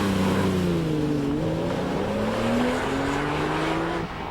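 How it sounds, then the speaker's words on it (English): A Lamborghini Murcielago sports car drives at speed on an airfield, its loud engine note climbing and holding steady in a continuous roar, with a brief dip near the end. "Lamborghini Murcielago, probably the most outrageous car on the market today"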